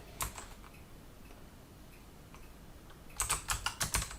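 Computer keyboard typing in a quiet room: a few scattered keystrokes early, then a quick, close burst of clicks toward the end, with no one speaking.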